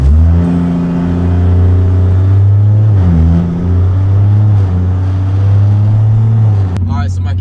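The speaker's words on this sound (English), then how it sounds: "I just want to do a pull once my car warms up to see how it sounds" A BMW 340i with a big turbo and a homemade exhaust dump accelerates through a loud, steady, droning low exhaust note that swells and dips briefly mid-pull before easing off, with a short clatter at the end.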